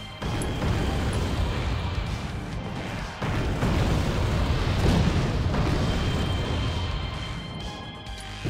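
Mortar rounds land in the Wargame strategy video game, a dense run of heavy explosions and crashing booms, loud and continuous with a short gap near the middle.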